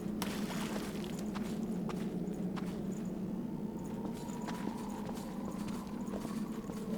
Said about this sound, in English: Why do I hear somebody stomping around over there?